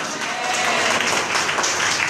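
An audience applauds inside a church during a Tamil service, a dense, steady wash of many hands clapping that holds evenly for about two seconds.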